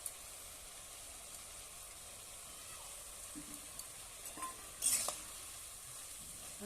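Ground ginger and cumin paste stirred in a pan of oil produces a soft, low sizzle with faint scraping, building to a short burst of stirring and spattering toward the end.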